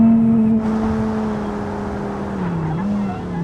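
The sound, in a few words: car stopping at toll and accelerating, BeamNG.drive video game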